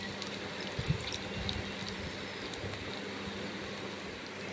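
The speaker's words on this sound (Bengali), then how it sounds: "ছানাগুলো গা ঘি দিয়ে আমি ভেজে নিচ্ছি" Chhana pieces fry in ghee in a wok, giving a steady hissing sizzle that stays fairly even and moderately close, with a few small pops and bubbling crackles scattered through it.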